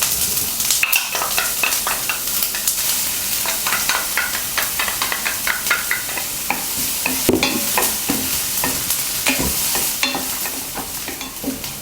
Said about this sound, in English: Saute the chopped onion and garlic until aromatic.